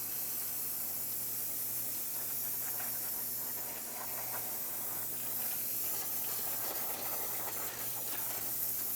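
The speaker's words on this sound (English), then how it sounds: "I'm just going to spray it down, clean off all the brake dust." Brake parts cleaner sprays steadily onto the rear brake drum of a 2005-2006 Chevrolet Silverado 1500, a continuous loud aerosol hiss that runs unbroken, with no talking.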